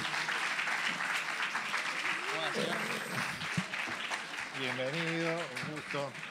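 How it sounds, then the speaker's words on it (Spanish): Steady audience applause fills a school activity at a fantasy literature gathering, dense and continuous throughout, with an announcer's voice speaking over it near the end. "Vayan aplaudiendo, Nico Pintos y Tiffany Caligaris."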